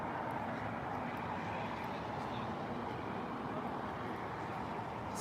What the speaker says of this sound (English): This is an A319 from Faro, I believe.